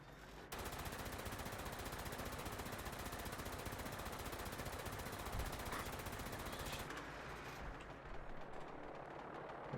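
Rapid automatic weapon fire from the video game Fallout 76, a dense continuous burst lasting several seconds at steady loudness, then cutting off into quieter game ambience.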